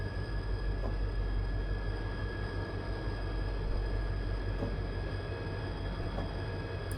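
A locomotive engine drones steadily in Train Simulator 2020 on Donner Pass, a deep continuous rumble with faint metallic clicks, even in loudness throughout and without talking.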